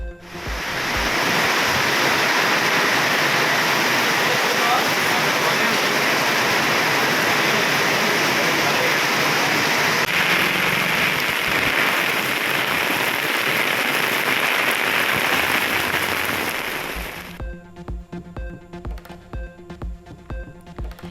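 Heavy rain pours down and rainwater runs across roads in a loud, dense, constant hiss for about seventeen seconds, then cuts off abruptly to quieter scattered sounds.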